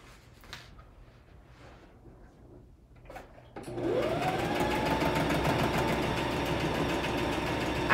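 A sewing machine stitches a seam with back stitching at each end, running steadily and loudly after a few seconds of quiet handling noises.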